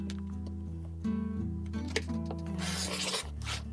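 A cutter slices quilt fabric along a ruler for a duck block, making a soft, close rubbing rasp that swells near the end, with steady background music underneath.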